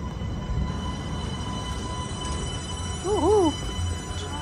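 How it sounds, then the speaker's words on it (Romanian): Tram in Istanbul running about a metre from the sidewalk, a steady close rumble of rail traffic with a brief wheel squeal rising near the end over street noise. "Așa trec tramvaiele pe aici, la un metru de trotuar."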